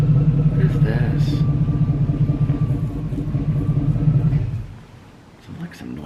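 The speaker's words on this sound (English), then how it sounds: "Sounds like some noisy pickup truck." A noisy pickup truck drives past, a loud low rumble steady for about four and a half seconds before fading, heard under a person talking.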